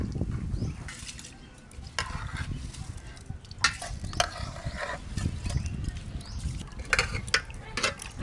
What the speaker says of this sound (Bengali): চালটা দিয়ে দিচ্ছি।